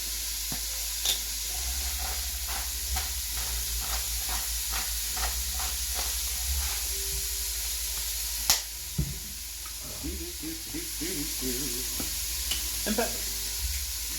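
Chopped celery, onion and carrots sizzle steadily in a hot pot while being stirred and salted, with scraping stirs and a brief spoken word over the frying.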